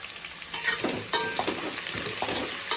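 Prawns frying in a mix of ghee and oil for biryani give a steady close sizzle, with a few sharper clinks and stirs of a utensil against the pan.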